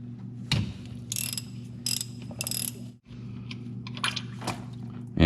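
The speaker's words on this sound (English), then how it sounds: "this drain bolt takes a 21 millimeter socket, and I use a deep well" A ratchet with a deep 21 mm socket loosens the oil drain bolt on an Arctic Cat ATV, giving several bursts of rapid clicking over a steady low mechanical hum, close and distinct.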